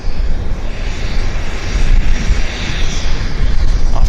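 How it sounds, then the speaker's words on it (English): An Air North Boeing 737-500 taxis out at Vancouver airport, its engines a loud, steady roar with a broad hiss, continuous and close throughout. "We have Air North taxiing out"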